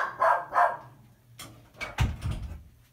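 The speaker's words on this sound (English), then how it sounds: "there's my dog saving me" A dog barks twice at a distance indoors during a painting session, apparently at a mailman, followed by a louder burst of rough bark or door-like sounds nearby.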